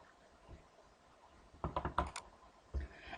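Computer mouse double click while opening a zipped folder of data files: a quiet burst of quick clicks near the middle, then a single click, against faint room noise.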